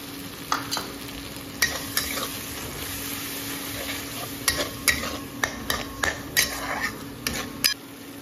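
A homemade spice mix of cumin powder, chili, salt and turmeric sizzles steadily in a pan, with a series of sharp, irregular scrapes and clinks from stirring ringing out clearly above the frying.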